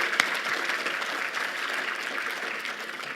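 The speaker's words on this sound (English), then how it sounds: "I'd like to give a huge round of applause to our sponsors" An audience claps for sponsors at a talk, a sustained, moderately loud burst of many hands that holds steady for several seconds before easing slightly.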